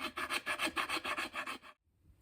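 A fine-tooth file shaping the wooden neck of a cigar box guitar: about ten quick, rhythmic rasping strokes close up, then sudden silence.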